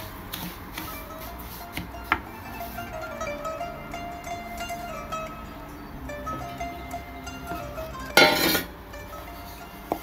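Semolina (rava) being stirred in ghee in a metal pan over a low flame for kesari, with repeated light scraping and clinks of the spoon against the pan, one louder rattle near the end.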